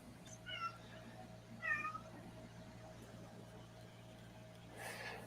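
A scavenging cat meows a couple of times, faint and somewhat distant over a steady low hum, followed by a soft rustle near the end.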